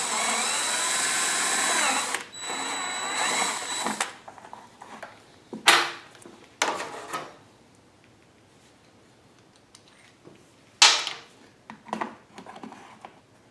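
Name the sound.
step drill drilling a hole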